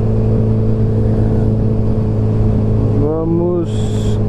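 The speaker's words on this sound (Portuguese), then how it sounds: "Vamos para Cabo Frio de motoca com garupa." A motorcycle carrying a passenger rides toward Cabo Frio, its engine droning steadily and close amid road and wind noise, with a brief rising engine tone near the end.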